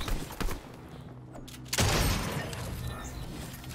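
A bomb detonates in the Fortnite video game with one loud, sudden blast partway through, followed by a lingering rumble. Scattered lighter impacts come before it.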